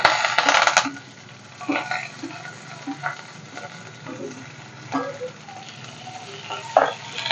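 Onion and curry leaves frying in a pan for a carrot and beetroot palya, with a steady close sizzle broken by a loud burst near the start and occasional clinks and scrapes of stirring.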